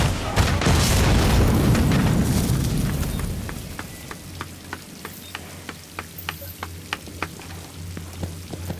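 An armored APC blows up in The Division, a heavy roaring blast that decays over a few seconds into crackling debris and a run of regular sharp ticks.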